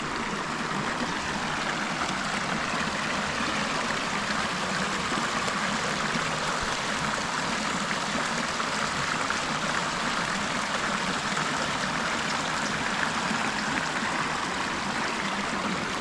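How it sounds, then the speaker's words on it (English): A forest stream runs along a hiking trail, its water rushing and trickling in a continuous, even wash that stays constant from start to finish with no talking. "love flowing water. It's so peaceful."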